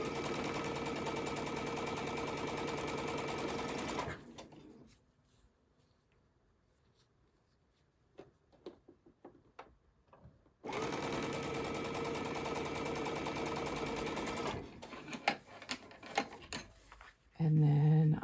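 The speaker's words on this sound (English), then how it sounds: "sew the other side of my half square triangles" A sewing machine stitches half square triangle quilt pieces in two loud, steady whirring runs of several seconds each, separated by quiet fabric handling and clicks, with a brief restart at the very end.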